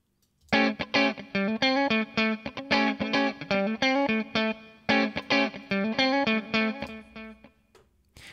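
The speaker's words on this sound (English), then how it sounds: "I've got myself a convolution reverb unit." Convolution reverb unit in iZotope Trash 2 processing a bongo loop: rhythmic hand-drum hits in quick patterns with a ringing, metallic reverberant tail, loud and clear, ending in a fading decay.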